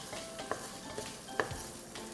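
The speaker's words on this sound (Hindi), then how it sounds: "चावल को हल्के हाथ से यूं मिलाएंगे" Soaked, washed rice gets gently stirred into fried onions in a pan, a soft low sizzle under a few light scraping strokes of the spoon, quiet and close.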